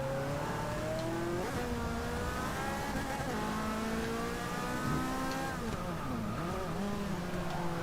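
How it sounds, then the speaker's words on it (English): A pack of race cars laps Catalunya in Forza Motorsport 6, a dense, continuous roar of several engines close by, pitch rising and dipping as they rev and shift through the corners, and nobody speaks. "Wow, look at how slow those cars are going."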